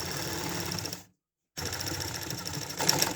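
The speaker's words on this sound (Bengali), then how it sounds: "1/2 ইঞ্চি পরিমাণ কাপড় আমি ভাঁজ দিয়ে সেলাই দিয়ে নিব" Close, steady whirring of a sewing machine stitching down a half-inch folded fabric hem on a petticoat, cutting out abruptly for a short silence before resuming just as loudly.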